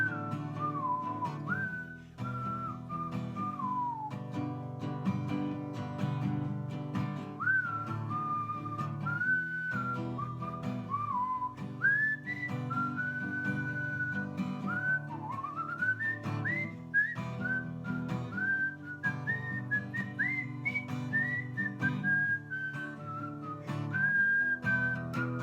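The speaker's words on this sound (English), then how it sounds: "I'm just gonna whistle." A single person whistles a meandering melody, clear and close, with gentle instrumental backing underneath throughout.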